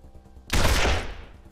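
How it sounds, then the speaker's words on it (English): A single close, loud burst of video game gunfire erupts and rings out for about half a second, then a second shot begins as the clip ends. "And he's just shot me!"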